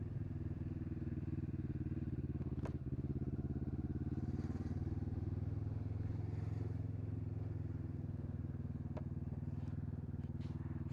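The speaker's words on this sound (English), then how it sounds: "Oh my god, I'm on a motorbike." Steady drone of a motorbike engine on a first-ever ride, a constant low hum with a few faint clicks and rattles, heard alone without talk.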